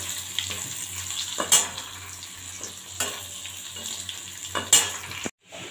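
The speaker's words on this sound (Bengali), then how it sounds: "পনিরগুলো আগে ভালো করে ভেজে নিচ্ছি" Paneer frying in a wok gives off a steady, close sizzle, with a few sharp metallic clinks from stirring scattered through it.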